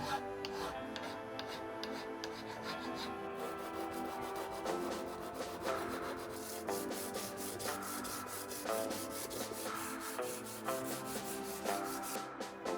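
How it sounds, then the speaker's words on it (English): Hand filing and sanding on metal parts of an old machine, repeated rhythmic rasping strokes, close and fairly quiet, with no talk. "all that stood between it and me was a therapeutic session of filing and sanding"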